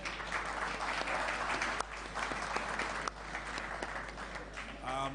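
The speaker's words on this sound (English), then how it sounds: "let us give a round of applause to our panelists" Audience applause for a panel at a cybersecurity discussion, continuous dense clapping from a crowd throughout, fairly loud and steady, fading as a voice begins at the very end.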